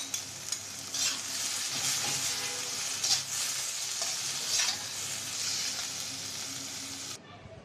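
Greens frying in a pan with onion and garlic give a steady close sizzle broken by repeated stirring scrapes, then cut off abruptly near the end.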